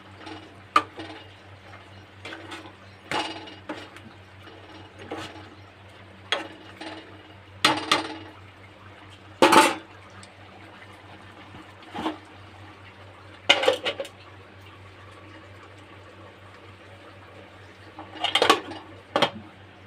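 A spoon clanks and scrapes against a cooking pot as mutton curry is stirred, irregular metallic knocks and clatters spaced a few seconds apart over a quiet room with a low hum, and no one talks.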